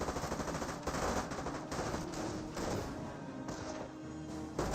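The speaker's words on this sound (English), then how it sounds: "Grenadiers throw a grenade." Battle sounds in the Company of Heroes game as Grenadiers throw a grenade, with dense continuous gunfire and crackling explosions layered together, loud and busy throughout.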